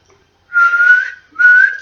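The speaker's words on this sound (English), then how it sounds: "It's whistling." Two clear whistled tones, the first longer than the second, loud and close with a short pause between them.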